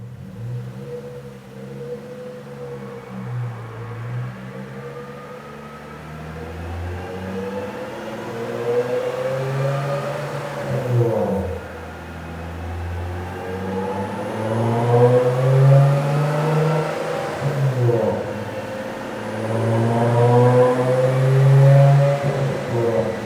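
A car engine revving on a chassis dyno during a wheel horsepower run, the pitch climbing and dropping in repeated sweeping pulls, loud and close, with no talking.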